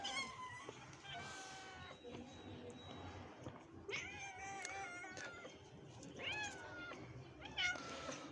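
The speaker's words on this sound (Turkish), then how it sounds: "Bunu alırken anne kedi bana çok kızıyor." An angry mother cat meows and caterwauls repeatedly while her kitten is handled, the cries quiet and drawn out, with a person speaking softly between them.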